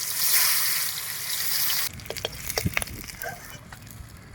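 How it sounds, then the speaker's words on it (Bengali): Rupchand fish pieces frying in oil in a wok. A loud, dense sizzle fades after a couple of seconds into softer crackling with scattered pops and spatters. "এবার মাছগুলো সব এক এক করে ভেজে নেব"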